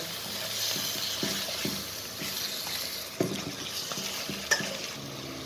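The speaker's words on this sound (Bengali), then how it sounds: "এখন সুন্দর করে নেড়ে নিব।" Beef stirred with chilli and coriander powder in a pot, a steady close sizzle with repeated rhythmic scraping of a spoon and a couple of sharp knocks against the metal.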